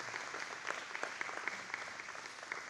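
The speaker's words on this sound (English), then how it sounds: "Give yourselves a round of applause for that" Audience applause at a men's community breakfast: a steady wash of many hands clapping, fairly distant and soft, running unbroken through the whole stretch with no voices over it.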